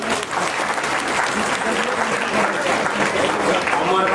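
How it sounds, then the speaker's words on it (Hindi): Applause from an audience at a Srimad Bhagavatam recitation gathering in Noida, giving thanks for arranging the prasad: dense, steady clapping from many hands filling the room, mixed with background voices. "आज का जो प्रसाद की व्यवस्था किया इनका नाम पर भी आप लोग ताली बजा दो"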